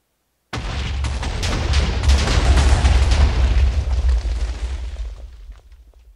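A Minecraft TNT blast set off through redstone wiring: a sudden loud boom that swells into a long, rumbling roar of crackling debris, holding strong for several seconds before tapering off, with no talking.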